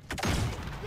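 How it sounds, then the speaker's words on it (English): A flashbang grenade detonates in Call of Duty: Modern Warfare, a single loud, close burst with a heavy low thump that rings on briefly. "Flashbang."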